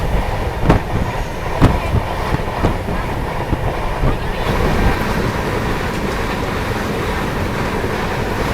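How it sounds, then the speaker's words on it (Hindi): Navjeevan SF Express passenger train pulling into Nandurbar station in Maharashtra, a loud continuous rumble with rhythmic clicks of wheels over rail joints and occasional sharper knocks, steady throughout. "हमारी ट्रेन पहुंच गई है नंदुरबार, महाराष्ट्र में ये पड़ता है"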